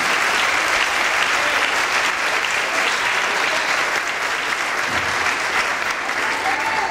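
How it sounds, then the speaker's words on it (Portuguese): A church audience gives a preacher warm, sustained applause, loud and even from start to finish. "com a calorosa salva de palmas para Jesus"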